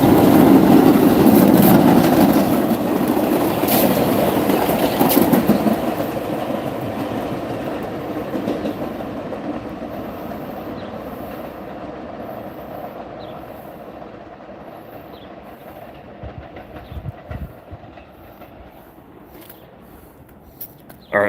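Staten Island Railway express train rolling past a station platform, loud rumble and wheel clatter at first, then fading gradually into the distance with a few faint clicks near the end.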